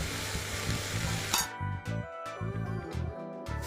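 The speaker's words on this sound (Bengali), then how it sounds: "ভালো করে ডালটা এবার ভাজতে হবে সব মশলাপাতি টমেটো পেঁয়াজ এগুলোর সাথে একটু ভাজা ভাজা হয়ে গেলে" Chana dal frying with spices, tomato and onion in a pan, a soft sizzle under repeated stirring scrapes and light clinks of a utensil against the pan, with no talking.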